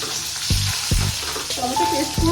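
Tomatoes go into hot oil with two dried chillies for ridge gourd curry, a loud steady sizzle broken by several dull knocks of a spoon against the pan and a brief squeaky scrape.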